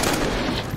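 Gunfire in the survival video game DayZ, a loud, dense burst of shooting lasting under a second, filling the clip with no pause.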